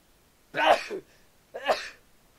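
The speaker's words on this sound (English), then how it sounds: "Manly sneeze" Two short, forceful bursts from a voice, close to the mic, separated by a pause, each an abrupt explosive exhale like a sneeze.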